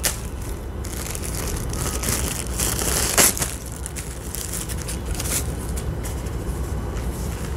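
Protective plastic packaging being ripped and crinkled open by hand, a continuous close rustling and crackling with one sharper tear partway through.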